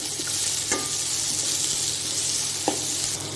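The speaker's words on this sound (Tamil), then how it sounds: "இப்போ ஒரு கிளறி தருக்கலாம்." Salted onions sautéing in a pan give a loud, continuous sizzle, broken by a few light clicks of stirring with a utensil.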